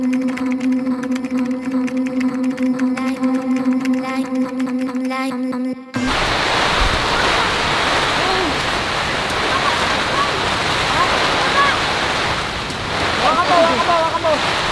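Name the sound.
rain and wind outside a tent during a storm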